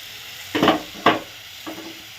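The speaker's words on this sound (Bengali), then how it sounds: "ফোড়ন দিয়েছি যেই, একদম সঙ্গে সঙ্গে তেল ধরে নিয়েছে" Spices for tempering are dropped into hot oil in a pan for dal, producing two sharp close bursts of sizzle and crackle followed by a fainter third, over a low kitchen background.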